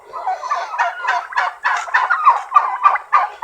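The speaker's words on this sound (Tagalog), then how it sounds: "Yung pabo yan, yung medyo marami naman natira." Domestic turkeys in a backyard poultry flock gobble nearby, a loud, close, continuous run of rapid warbling gobbles with no talking.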